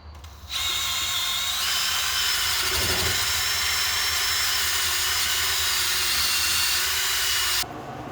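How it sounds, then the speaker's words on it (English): A wire wheel on a power tool grinds over metal parts, cleaning them before paint. The whirring, scratchy buzz starts after a brief pause, runs steadily and loudly up close for about seven seconds, then cuts off. "Just wire wheeling stuff, cleaning it up, and getting ready for paint."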